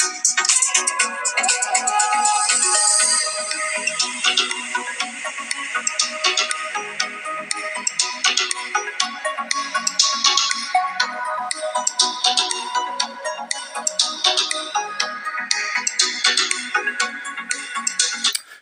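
Music plays through the built-in speakers of a Google Pixel 9 phone, thin and bright with little bass, running steadily and alone for the whole stretch.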